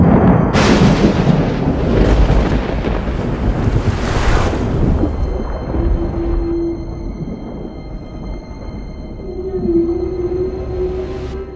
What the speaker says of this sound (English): So there's the sounds of nature, like the ocean,